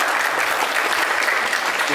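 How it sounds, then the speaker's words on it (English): Sustained applause from a crowd at a Hasbro Transformers brand panel, a dense, even wash of clapping that holds steady and close throughout. "I expect some applause on this next one."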